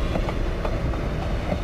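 A passenger train in Passenger Train Simulator rolls along rails with a steady rumble and faint periodic clicks over the joints, continuous and fairly close, with no talk.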